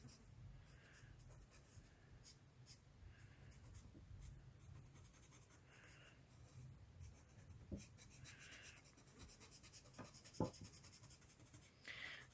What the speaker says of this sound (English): how the mechanical pencil works on the paper